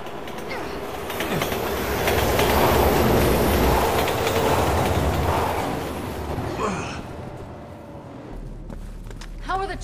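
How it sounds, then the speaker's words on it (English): A train approaches in Resident Evil 6, a loud rumbling roar with rattling wheels that swells and then fades, followed by a brief metallic squeal near the end, while a voice speaks over it. "Train's coming!"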